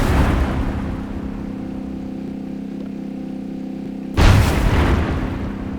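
Tank explosions in the Minecraft Create Aeronautics game: a heavy booming blast opens, fading into a low rumbling engine drone, then a second sharp explosion bursts near the end, loud and close, with no talk.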